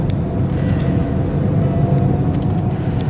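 A 2013 Ford Escape SE 4WD with the 2.0L EcoBoost takes a hard corner, its engine and road noise forming a loud, steady interior drone with a few faint clicks and no tire squeal.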